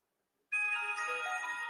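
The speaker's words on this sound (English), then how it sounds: "there goes the work phone" A work phone's electronic ringtone starts suddenly after a brief silence and keeps ringing steadily, faint and somewhat distant.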